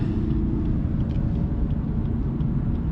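A Lexus ES 250 AWD engine straining toward 4,000 RPM, a steady droning low rumble with road and cabin noise, continuous and unchanging across a few seconds, no voices.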